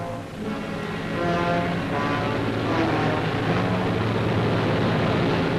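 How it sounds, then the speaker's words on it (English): A steady, droning engine roar with a throbbing tonal hum holds throughout, loud and constant, as commercial and service helicopters pass low nearby searching a rocky coastline. "Commercial and service helicopters searched the rocky coastline"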